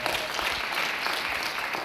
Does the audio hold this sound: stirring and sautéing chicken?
no